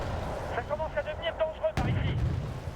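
Artillery fire in the video game Wargame: Red Dragon, a heavy booming impact that lands near the end after a stretch where a voice talks over low rumbling battle noise.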